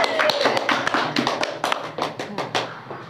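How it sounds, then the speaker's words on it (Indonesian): Several people clap in a small room during an Indonesian podcast, a quick uneven patter of hand claps over a few seconds, fairly close and loud. "Ya boleh tepuk tangan."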